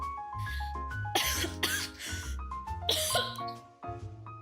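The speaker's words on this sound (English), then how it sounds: "I try to mute when I, like, start coughing" Several harsh coughs burst out in quick clusters, close and fairly loud, separated by short pauses with faint tonal sounds and a voice in the background.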